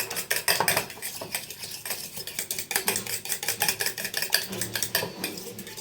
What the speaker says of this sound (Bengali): ডিমটা খুব ভালো করে ফাটতে হবে